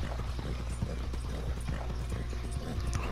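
Horse hooves clip-clop steadily in Red Dead Redemption 2, a continuous run of close, even steps over a constant low game-engine rumble.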